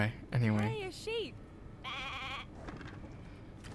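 A sheep bleats in the video game Divinity: Original Sin 2, a couple of wavering bleats close up, one long bleat following, with some quiet talk over the top.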